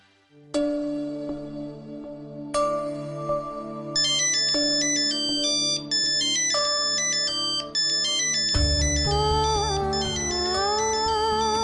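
A telephone ringtone rings as a loud electronic melody of bright repeating tones, with the tune shifting and building over several phrases and no talk.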